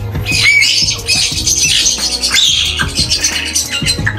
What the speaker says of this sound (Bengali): এই জায়গায় অনেক তোতা পাখি দেখা যায়, অর্থাৎ প্যারট।